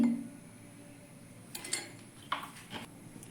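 A metal spoon clinks against a bowl while vinegar is measured out for homemade paneer: a handful of light, separate chinks in a quiet kitchen.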